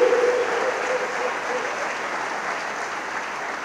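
Steady audience applause fills a large congress hall during a church service, a dense wash of clapping that holds at an even level from start to end with no voices on top.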